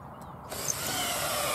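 A cordless drill drives screws into the wood of an allotment shed, the motor kicking in mid-clip and whirring loud and steady up close after a quieter start, with no talking.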